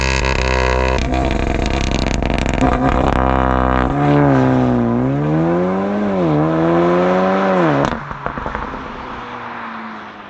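An ABT-tuned 375 hp Audi S3 8V sedan launches from a standstill, its engine roaring loud and close as it climbs through the gears, with pitch rising and dropping at each shift, and pops and crackles as the roar fades.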